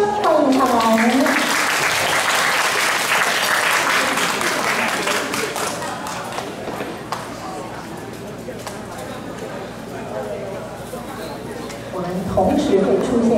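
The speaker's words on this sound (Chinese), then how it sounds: "掌声欢迎他们" Audience applause welcoming performers at a community college showcase of Taiwanese opera excerpts, a dense sustained clapping loud at first, easing somewhat in the middle and swelling again near the end, with voices mixed in.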